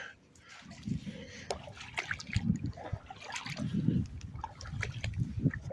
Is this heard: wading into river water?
yes